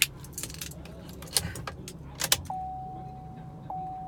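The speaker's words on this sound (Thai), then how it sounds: "เอาล็อกรถปุ๊บปลดล็อก" A new Chevrolet Colorado is locked and unlocked with its remote key, with jangling keys and sharp clicks, then a sustained electronic beep tone, all heard close up.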